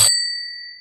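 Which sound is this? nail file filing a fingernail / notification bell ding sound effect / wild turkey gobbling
notification bell ding sound effect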